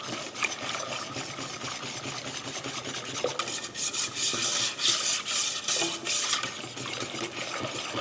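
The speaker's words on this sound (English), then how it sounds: "Give it a good whisk." A whisk scrapes steadily around a pan, stirring a lump-free mixture before cooking, with a continuous raspy swishing that grows a little louder and busier midway through.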